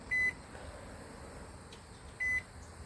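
A Hamilton Beach microwave's kitchen timer gives two short, clear electronic beeps about two seconds apart against a quiet room hum.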